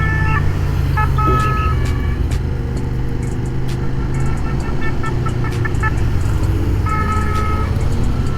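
A KTM 1390 Super Duke R motorcycle fitted with a quickshifter roars steadily and loudly as it accelerates along the road, a constant engine drone filling the whole stretch with no talk over it.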